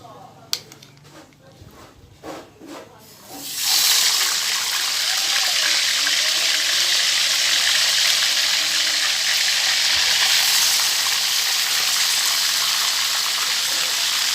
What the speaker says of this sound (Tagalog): ipiprito po natin po ang ating fish